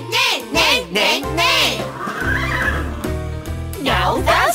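Sung voices imitating horse neighs in a kids' farm animal song, repeated whinnying calls over a bouncy musical backing.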